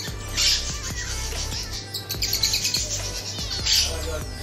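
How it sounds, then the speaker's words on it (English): A small bird chirps inside a pet store, several quick high tweets repeating over a few seconds against a steady background hum and store noise. "See small bird."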